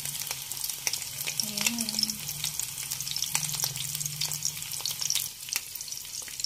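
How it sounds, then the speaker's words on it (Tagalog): Small shrimp omelette, Filipino torta, sizzling steadily in a frying pan, a continuous close crackle with someone briefly speaking over it. "piniprito na natin yung ating tortang maliliit na hipon"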